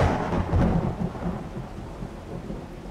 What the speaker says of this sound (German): ist das Donnergeräusch laut